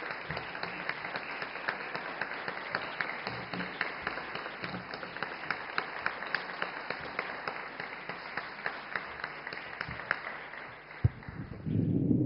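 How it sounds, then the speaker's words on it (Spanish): Sustained applause from an audience in a national Senate hall after a talk on Jewish philosophy and abortion, a steady, even patter of many hands that runs on for several seconds before a sharp knock and fading noise at the end. "Un sostenido aplauso, doctor Lagen"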